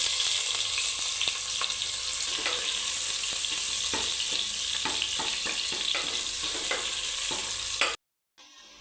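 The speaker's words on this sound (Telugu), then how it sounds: "ఇప్పుడు ఆయిల్ గిట్ అయ్యాక కొన్ని కొన్ని ఆనియన్స్ ముక్కలు వేసుకుందామండి" Onion pieces fry in hot oil with a continuous crackling sizzle, broken by scattered spatula knocks and scrapes, before everything cuts to sudden silence.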